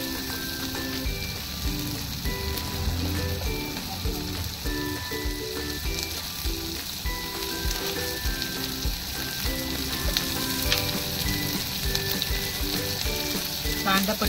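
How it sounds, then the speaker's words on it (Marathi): Onion sautés in a pan for spicy bhandichi bhaji, making a constant loud sizzle with faint stirring scrapes throughout, without any voice. "चांगलं परतवून घेऊ।"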